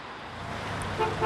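A car passes along a rural road where a stray white cat is being rescued, a steady broadband road rumble with a brief horn-like tone near the end, fairly distant and without talk.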